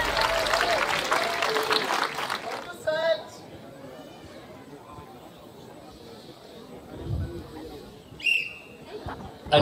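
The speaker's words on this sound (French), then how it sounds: "Vous pouvez les applaudir." A crowd applauds RoboCup Kid Size final teams; the clapping is loudest at the start, fades after about three seconds, and gives way to faint chatter, scattered noises and a few sharp squeaks.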